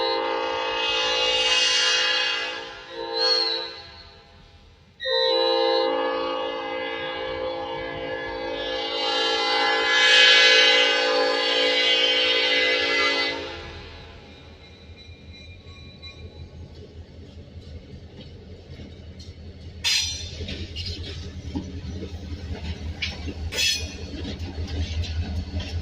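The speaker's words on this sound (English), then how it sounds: "It's great to see the train moving over here at Moultrie" A Georgia & Florida Railroad freight led by a GP38 and a GP40-2 at Moultrie, Georgia, sounds several long, loud horn blasts, then rumbles past with clanking wheels and rattling cars.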